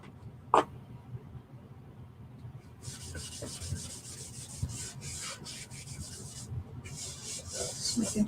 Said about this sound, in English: So I'm just going along my surface, kind of buffing it out.